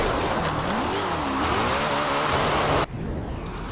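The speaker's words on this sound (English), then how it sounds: "move on to the next car, that being the Ford Hoonigan Unicorn" Ford Hoonigan Unicorn drift car from Forza Horizon 4 revving hard with a rising and falling engine pitch through a slide, then cutting off abruptly near the end, with no talk over it.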